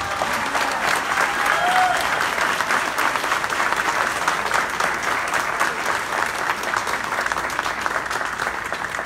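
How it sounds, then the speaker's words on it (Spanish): Steady, dense applause from a large crowd at a university graduation ceremony, continuous and even throughout with no speech over it. "Brindémonos un aplauso a estos jóvenes."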